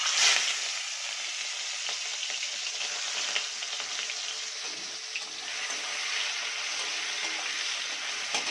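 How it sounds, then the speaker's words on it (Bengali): Prawns coated in salt and turmeric fry in oil with a dense, even, hissing sizzle that stays close and steady throughout, with no voices. "এবার ওই একই তেলে আগে থেকে ছাড়িয়ে রাখা, নুন হলুদ মাখিয়ে রাখা চিংড়ি মাছটা ভেজে নেব"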